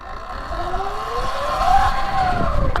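A Sur Ron electric bike accelerating hard, its whine rising steadily in pitch over a few seconds, loud and close.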